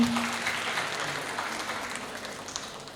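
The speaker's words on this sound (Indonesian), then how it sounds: "Mari beri tepuk tangan" Audience applause at a school parents' meeting, a steady wash of many hands clapping at moderate level, fairly distant and continuing throughout with no talk over it.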